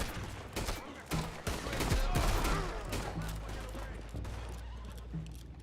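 Horses neigh and whinny in a Red Dead Redemption 2 scene, their calls rising over dense background noise, scattered gunfire and hoofbeats, with some talking mixed in.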